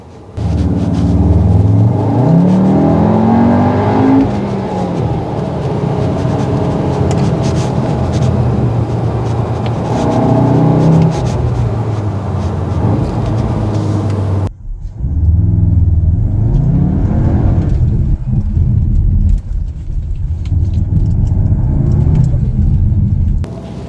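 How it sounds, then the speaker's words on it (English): A deep, growly Volkswagen Tiguan R engine and exhaust rev repeatedly, rising and falling in pitch, loud and close, with a brief cut before the rumbling resumes. "Has this very deep, growly kind of noise sound from the exhaust in the engine."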